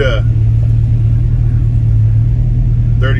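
Plymouth Cuda muscle car cruising past at a rod run, giving a loud, steady low engine rumble with a deep hum. Brief voices come in at the start and end.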